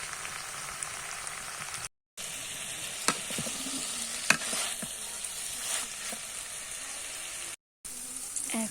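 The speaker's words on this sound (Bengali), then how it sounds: "এখন আমি বরবটি দিয়ে আলু ভাজাটা করে নিচ্ছি।" Potatoes and yardlong beans fry in a pan with a loud, rain-like hiss of hot oil, punctuated by scrapes and knocks of stirring, with two brief moments of total silence.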